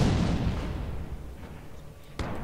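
Artillery barrage in a World War II strategy video game: a loud boom opening a rumbling, fading roll, then a sharp new crack near the end.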